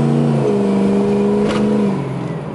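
A Ford Powerstroke turbo diesel dually crew cab 4x4 pickup with aftermarket exhaust pipes revs its engine, a steady deep droning hum that eases off toward the end, heard from inside the cab with no talking.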